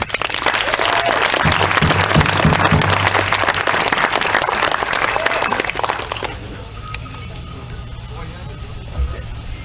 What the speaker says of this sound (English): let's bring them to the podium with a big round of applause